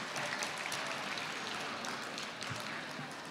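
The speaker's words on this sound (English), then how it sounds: "round of applause" Audience applause at a youth conference, a steady dense wash of many hands clapping that fills the whole stretch at moderate loudness with no talk over it.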